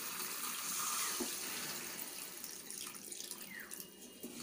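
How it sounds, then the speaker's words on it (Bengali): Water pours steadily into a pot of lightly fried potatoes and chicken for Bengali chicken biryani, a continuous close splashing rush that lasts several seconds with no voices. "আমি এখানে জল দিয়ে দেব।"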